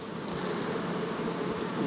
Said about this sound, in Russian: Очень поражают они, пчелы, удивительные существа.